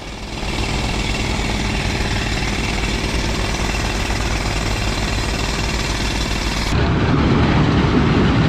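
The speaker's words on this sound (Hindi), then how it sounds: "अस्तक नाले से 1-2 किलोमीटर पहले एक एरिया में ब्लास्टिंग के लिए ड्रिलिंग की जा रही थी।" Rock drilling for blasting along a mountain road to Skardu, a steady loud mechanical hammering drone throughout, growing heavier and lower near the end with no voices.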